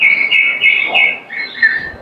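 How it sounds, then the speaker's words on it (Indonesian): Several birds chirp and warble in a natural outdoor setting, with bright repeated tweets running steadily and fairly close throughout, no talk over them. "suara burung"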